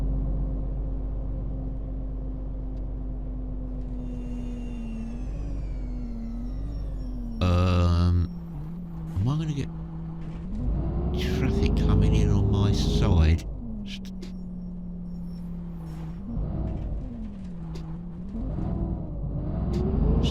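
A low bus engine drone in a driving simulator game runs steadily throughout, shifting in pitch as it revs, while a siren wails and someone talks over it now and then.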